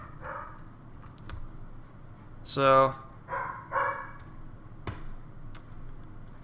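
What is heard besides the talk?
dog barking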